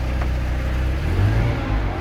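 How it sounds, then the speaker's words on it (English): A 1991 Ferrari Mondial T with its 3.4 litre engine gives a steady low, loud engine note that swells briefly midway, heard close and alone. "And that engine note that exits from the Ferrari, simply breathtaking."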